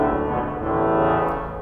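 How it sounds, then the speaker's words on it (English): A double trumpet 16 stop on a large five-manual Austin pipe organ sounds a single sustained, reedy, harmonically dense low tone, steady and loud with no talking. "We've got a double trumpet 16,"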